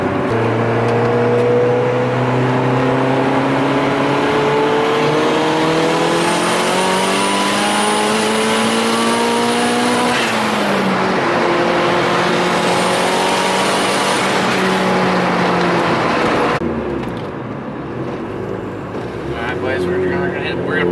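Turbocharged Honda Civic engine revving hard under about 16 psi of boost, near and loud with rising and falling pitch sweeps and a turbo whine, easing off toward the end; voices talk over it.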